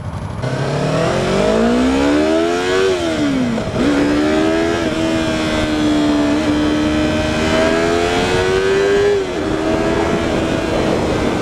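A Yamaha R3 motorcycle on a test ride, its engine loud and close, revving up through rising pitch sweeps, dropping briefly at a gear change, then holding a steady high drone before easing off.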